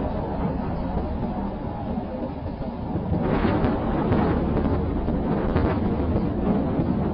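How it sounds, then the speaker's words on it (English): A sustained, rumbling explosion sound effect rolls on like thunder, loud and dense throughout, swelling slightly midway with crackling texture and no voices. "The explosion thundered across the sky,"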